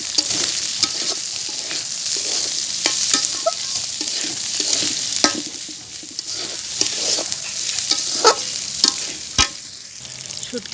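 Dried fish (shutki) and onions fry in a pan while a utensil stirs them. The sizzle is loud and continuous, broken by repeated scraping clanks at an irregular rhythm.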